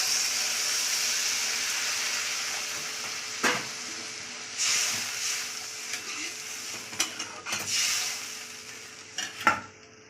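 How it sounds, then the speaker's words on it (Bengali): Masala brinjal sizzling in a pan as water is added, a steady hiss that rises in bursts with spoon scrapes and clinks against the pan, fairly faint and without talk. "এই দেখেন এবার জল দিয়ে দিচ্ছি"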